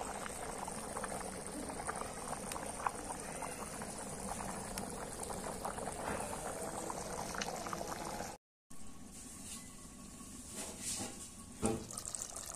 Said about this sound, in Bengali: এর মধ্যে পানি দিছে যাতে ডালগুলা সুন্দর করে সেদ্ধ হতে পারে